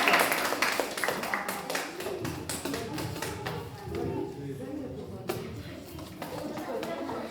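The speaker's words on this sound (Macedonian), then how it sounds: "Браво, аплауз, аплауз" Children at a school promotion event clapping: a brief burst of scattered, close claps that thins into sporadic taps under chatter and talking voices.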